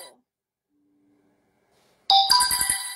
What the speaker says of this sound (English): Sorry if you hear my phone.